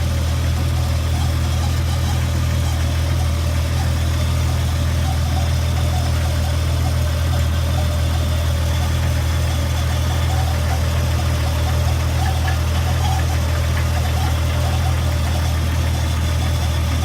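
The engine of a 1999 Jeep idles loudly and steadily at close range with a deep, constant rumble and a faint rattly vibration throughout. No voices are heard.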